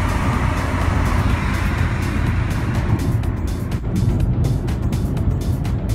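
1999 Toyota Corolla with a newly fitted engine climbing a hill, a steady loud engine and road drone heard from inside the car, with a brief dip before the roar resumes.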